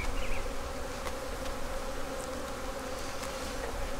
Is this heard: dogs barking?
no